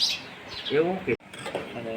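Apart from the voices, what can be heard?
sparrows chirping in village background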